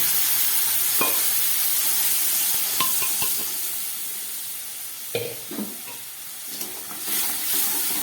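Chana dal tipped into a pan of hot oil with kasuri methi, a loud steady sizzle with a few sharp stirring scrapes and knocks, close and continuous with no voices.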